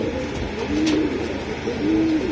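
Pigeons cooing nearby in a market setting, two soft low coos over a steady noisy background.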